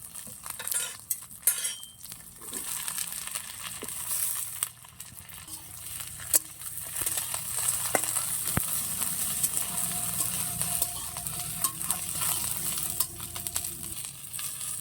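Vegetables sizzle in a pan with fried onion, garlic, ginger and chopped chili while cooking soybean curry with Malabar spinach and potato. A steady, soft sizzle runs under occasional clinks and scrapes of a utensil stirring.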